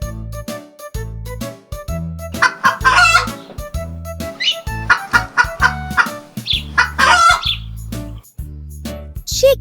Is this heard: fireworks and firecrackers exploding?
no